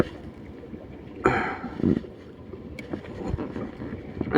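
A bangka boat from Siargao passes on the water near a fishing spot, a faint distant hum broken by gusty wind bursts and light splashy noise.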